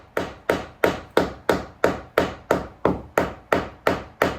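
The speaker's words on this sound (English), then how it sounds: "It takes a little more than one thinks to peen a 3/8 copper rod down, despite them having been annealed." Steady hammer blows peening the ends of annealed 3/8 copper rods into bolt heads during a gaff cutter boat restoration, about a dozen sharp ringing strikes at an even rhythm, close and loud with no talk.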